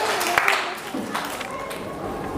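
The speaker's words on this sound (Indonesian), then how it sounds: "tepuk tangannya," A classroom group claps briefly while a teacher's voice carries over it, the clapping thinning out as the speech continues.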